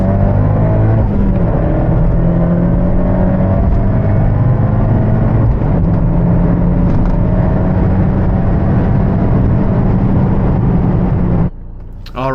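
An Abarth 124 Spider pulls hard in second gear from about 4,400 rpm, its engine a loud, steady, rising drone heard from inside the cabin, cutting off abruptly near the end.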